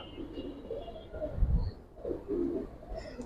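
Giribaz pigeons at a pigeon loft give low, soft cooing calls in short bursts, with faint chirps and some background noise.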